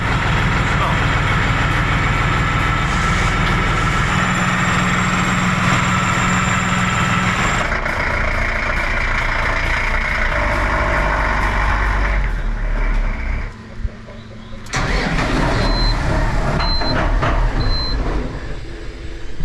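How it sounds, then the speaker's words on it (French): A New Holland T7 HD tractor's diesel engine runs loud and close, then cuts out abruptly and briefly restarts, with voices talking over it. "Je sais pas pourquoi il a démarré, il s'est éteint direct."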